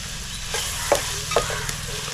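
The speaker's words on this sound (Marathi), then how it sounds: "कांदा आपल्याला थोडासा नरम करून घ्यायचा आहे कांदा इथे नरम होतोय" Chopped onion softens in hot oil in a pan for green-masala pea rice, giving a steady sizzle broken by a few sharp stirring scrapes.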